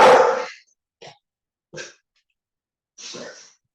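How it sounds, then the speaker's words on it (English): A dog being looked after in a home studio gives a loud opening bark or huff, followed by three shorter, softer bursts spaced about a second apart, with silence between them. "I'm dog sitting today, so forgive the barking."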